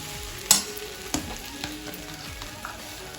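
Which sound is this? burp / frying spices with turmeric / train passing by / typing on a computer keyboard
frying spices with turmeric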